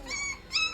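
A Doberman puppy whimpers in two short, high, whiny cries with a brief pause between them, close and fairly soft, with no voices.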